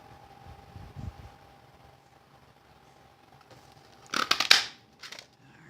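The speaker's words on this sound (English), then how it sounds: "I'm going to take my daisy punch and I'm going to cut these two out." A daisy-shaped paper punch cuts flower shapes out of card stock: a quiet room, then a sharp burst of crunching, snapping clicks, followed by one smaller click.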